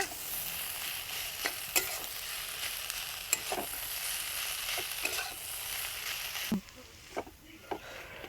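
Cauliflower chop filling being mixed in a pan, a steady soft sizzle with intermittent scraping stir strokes, the frying noise dropping away near the end.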